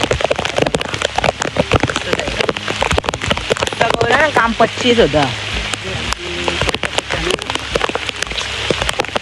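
Heavy rain falling outdoors during the first monsoon downpour, a dense continuous patter of drops hitting surfaces close by, with someone talking over it.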